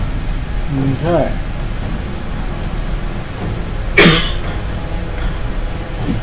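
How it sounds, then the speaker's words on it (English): A woman gives one sharp, close cough partway through, breaking briefly through a steady background hiss with other faint, scattered sounds. "That'd be the wife coughing and choking on something."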